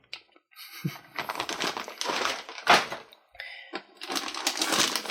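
A plastic parts bag from an Axial RR10 Bomber 1/10 scale electric RC kit crinkles and rustles up close in several loud, uneven bursts separated by brief pauses.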